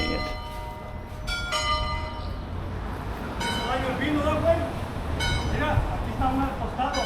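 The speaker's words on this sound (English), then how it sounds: "And the bells are ringing." Church bells ring in Puerto Vallarta, Mexico, with several clear metallic strikes rising over a steady background rumble of street noise.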